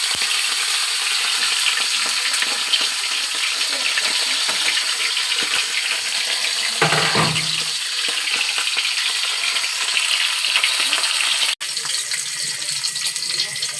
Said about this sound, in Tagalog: Ato ng prito na ang gahapag mayam-yang nga isda.